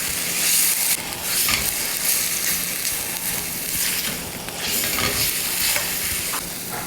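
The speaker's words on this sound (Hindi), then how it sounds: "अब सारी चीज़ों को अच्छे से मिक्स करेंगे, ज़बरदस्त सा मसाला बनाएंगे।" Brain fry masala with yogurt stirred in a hot pan, a steady scraping stir over continuous close sizzling and frying hiss, no voices.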